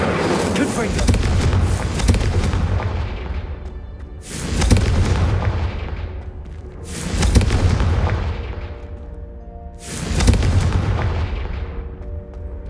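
Confringo fire spells explode in Hogwarts Legacy, four loud booming blasts roughly every three seconds, each one rolling off into a long rumbling tail over a steady low game soundscape, with a voice speaking faintly in the background.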